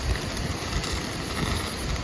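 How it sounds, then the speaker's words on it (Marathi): Steady, loud rush of strong wind buffeting close by at an outdoor night campsite in heavy rain, a dense roar with no voices, holding constant throughout. "वारा भरपूर सुटला रे"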